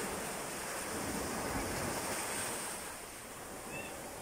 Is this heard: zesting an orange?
no